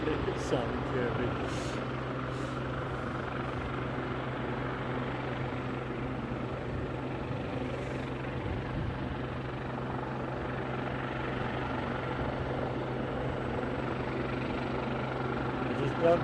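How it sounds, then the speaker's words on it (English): A helicopter at Aberdeen airport drones steadily at a moderate distance for the whole stretch, its rotor rumble continuous, with voices talking over it. "Just gone down, this helicopter is moving."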